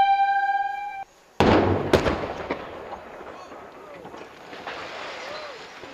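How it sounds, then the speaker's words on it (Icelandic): Explosive charge felling the upper part of a cement factory chimney in a town sounds as a sharp blast followed by a second crack, then a long rumbling roar of falling debris, heard from a distance after a brief tone. "Á þriðja tímanum í dag var efri hluti strompsins og feldur með sprengingu"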